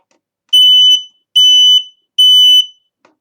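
Three loud, piercing electronic tones from a fire alarm sounding a fast code 3, each about half a second long, in a quick even pattern with short gaps, then silence.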